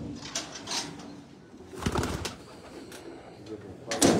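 Pigeons in a loft coo softly amid background noise, with a few sharper bursts and handling sounds breaking in.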